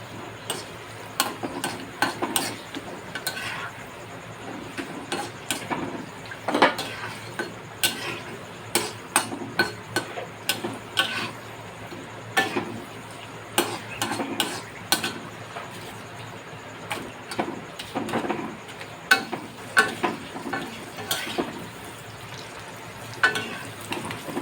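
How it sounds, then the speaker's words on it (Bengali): Papads frying one at a time in hot oil in a kadai for a papad curry, with a continuous crackling sizzle dotted with quick ticking pops and light utensil taps, close by and steady, with no talk. "দেখুন পাঁপড়গুলো এমনি করে একবারে ভেজে নেবেন"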